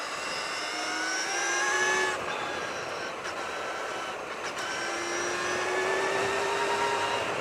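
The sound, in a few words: Brammo Empulse TT electric motorcycle revving hard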